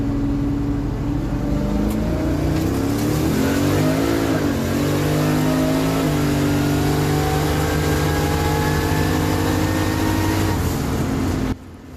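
A drag car accelerates hard from 60 to 130 mph, its engine roaring loud and continuous with rising pitch through gear changes for nearly the whole run before cutting off abruptly at the end.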